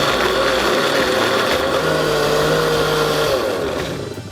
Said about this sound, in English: Put the top on your blender, start it up and liquefy.